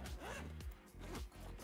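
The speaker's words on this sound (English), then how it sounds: "take them out of the bag, the zipper bag" Zipper on the carry bag for a JBL PRX One speaker being pulled open in a few short, close rasping strokes, quiet and alone.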